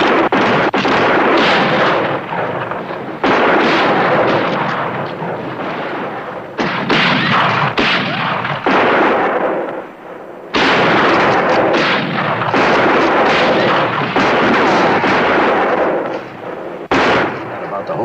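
Loud, sustained volleys of gunfire in a western shootout, heavy shots in dense repeated bursts with brief pauses between them, filling the scene close and booming.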